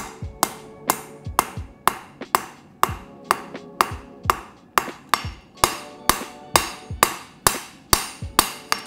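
Hammer forging a nakiri knife blade, a rapid, even series of about twenty sharp ringing metallic strikes, each decaying quickly, loud and close, with no voices.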